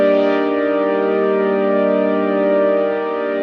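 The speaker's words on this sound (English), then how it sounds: "brighten up the synth a little bit and then use an auto filter right after that to just dull it back a little bit more" A synth chord sustains with rich layered harmonics, brightened then dulled by an auto filter with filter drive saturation adding warmth, a steady smooth pad with a slight sweep near the start, alone without voices.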